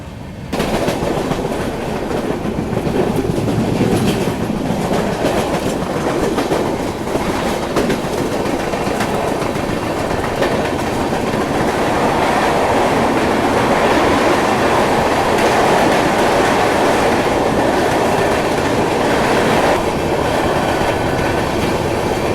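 The Swarna Jayanti Express passenger train runs slowly ahead of Etawah Junction, giving a continuous loud rumble with rhythmic clickety-clack of wheels on rails throughout, heard from inside a coach with no talking.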